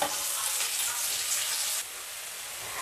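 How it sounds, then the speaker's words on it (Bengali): Capsicum sizzles steadily in a hot pan while mixed veg noodles are being cooked, a dense, even crackle of frying that continues without pause and with no voices. "তো এখানে ক্যাপসিকামটাও একটুক্ষণ ভেজে নিতে হবে।"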